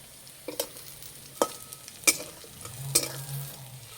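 Jackfruit seed fritters frying in a pan, a faint low sizzle broken by a few sharp scraping stirs and clinks of the spatula, quiet and close with no talking.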